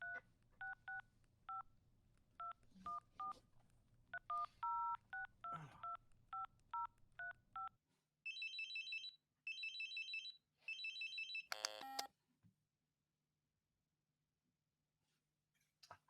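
Phone dialing in a quiet room: a quick series of touch-tone beeps, then three separate bursts of trilling electronic ringing, a brief clatter, and near silence. No one speaks.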